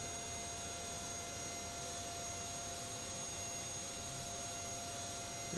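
A jet engine on an Aerosoft DC-8 airliner in the Prepar3D flight simulator spooling up, a steady broadband roar with a high whine, constant and unbroken throughout.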